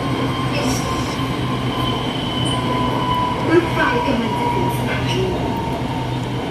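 Bangkok's SRT Red Line electric train running, a steady loud rumble of the carriage with faint wheel squeal rising briefly, continuous throughout as from inside the moving train.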